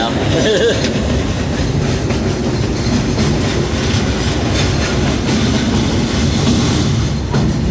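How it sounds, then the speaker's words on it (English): Steam train rolling along railroad tracks, a loud, steady rumble with clickety-clack wheel noise throughout, close by and continuous. "They don't want to get run over by a steam train."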